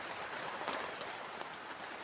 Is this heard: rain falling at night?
yes